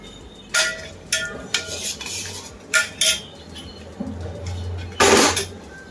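A metal spoon stirs and scrapes against a pot of milk on a gas stove, with repeated clinks at irregular intervals over a low steady hiss.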